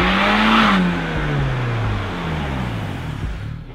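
A Toyota AE86 Corolla accelerates on track, its engine loud and close with a climbing pitch that drops at a gear change and then climbs again as it pulls away, with no talking.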